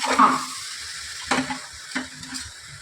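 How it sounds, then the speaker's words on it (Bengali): Chana masala sautéing in a pan: a soft sizzle under three distinct spatula scrapes spaced a second or so apart, close and fairly loud, with no talking. "তাহলে এটা এখন একটু কষানো হোক"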